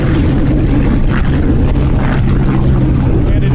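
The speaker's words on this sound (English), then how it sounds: "there goes the casual Spitfire. Yeah, it's the double-seater Spitfire." A double-seater Spitfire takes off and flies past, a loud continuous piston-engine drone with a deep rumble dominating throughout, with voices faintly present underneath.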